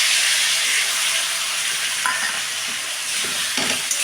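Cauliflower frying in a pan as a paste of ground mustard and poppy seeds is stirred in, giving a steady close sizzle with a few brief scraping stirs near the end and no talk.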